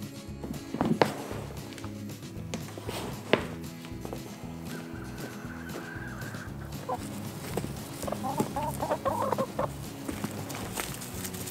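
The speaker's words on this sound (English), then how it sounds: "So let's get Truffle and Milker. Okay, so the first step is to choose your chicken" A chicken clucks in short bursts against a busy, noisy background with some shuffling movement nearby, and no one speaks.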